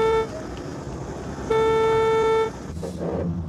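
A car horn toots twice, a short blast then a longer one of about a second, sounding each time the brakes are applied, over steady road and engine noise on a drive in India.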